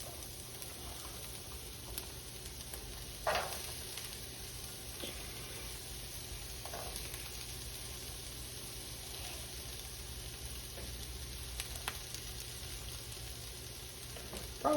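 Vegetables sizzle steadily in an oiled pan alongside chicken breast, a continuous close frying hiss with a few faint clinks and scrapes, and no voice over it.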